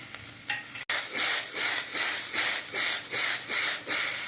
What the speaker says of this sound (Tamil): இப்போ இது கூடயே மஞ்சத்தூள், மிளகாத்தூள், சீரகத்தூள், மிளகுத்தூள், மல்லித்தலை எல்லாத்தையும் போட்டு ஒரு குலுக்கலாம்